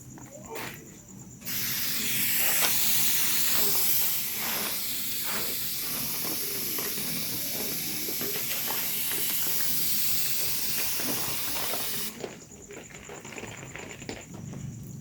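A water sprayer mists a cricket farm in a loud, steady hiss that starts after a quiet second and runs about ten seconds before stopping, with faint clicks and rustles around it.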